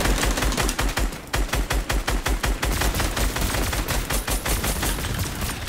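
Rapid gunfire in a trio arena shooter game: loud, close bursts of automatic shots in quick repeating rhythm, with a brief pause before the spray resumes and continues to the end.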